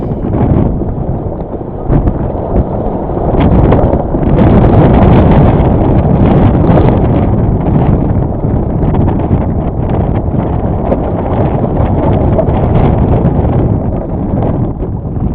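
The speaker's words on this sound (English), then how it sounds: "the winds really pick up here" A 28-knot wind gust on a Potter 15 sailboat roars and buffets the microphone in loud, continuous gusts, with flapping and rattling underneath.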